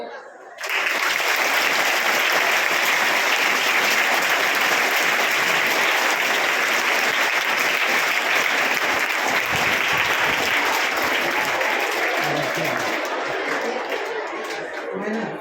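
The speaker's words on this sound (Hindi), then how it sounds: "हाँ अब आप ताली बजा सकते हो।" An audience bursts into clapping, loud sustained applause that starts abruptly, holds steady with some chatter mixed in, and eases slightly near the end.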